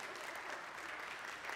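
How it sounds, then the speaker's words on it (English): A church congregation claps during a Sunday morning worship service, giving steady, faint applause from a room full of people for a short stretch. "You can clap."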